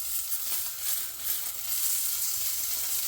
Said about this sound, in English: I'm just gonna fry that fat off in there